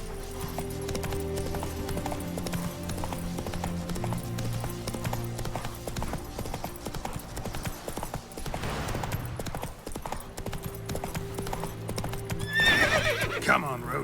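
Roach the horse gallops and neighs in The Witcher 3, rhythmic hoofbeats running throughout with a whinny toward the end over light game ambience.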